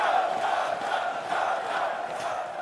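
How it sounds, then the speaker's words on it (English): A large arena crowd at a League of Legends esports playoff match roars and cheers continuously, a dense, sustained wall of voices at steady loudness with no individual speech standing out. "it's crazy being in such a big crowd and how supportive they are"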